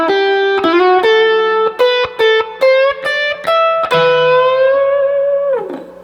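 A blues guitar lick is played slowly on a distorted electric guitar: a slide up, then a series of separately picked, bent notes, ending on a long, sustained note that fades out.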